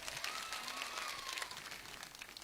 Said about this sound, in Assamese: দে হাত চাপৰি চবেই